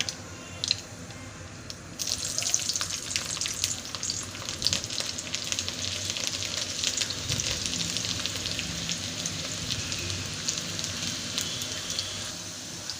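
Garlic frying in hot oil on a low flame with popped mustard seeds and cumin, a steady close sizzle with crackling spits and pops throughout, no talking.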